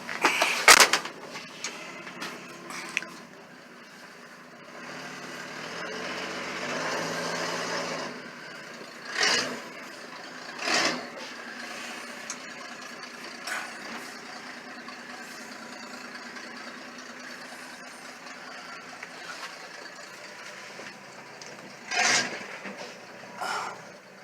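Old Ford tug engine running after its first start, a steady low idle that carries on for the whole stretch, punctuated by several short, louder revs or knocks spaced irregularly, with no voices.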